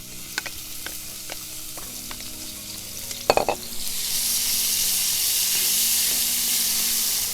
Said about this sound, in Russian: Отправляем обжариваться лук.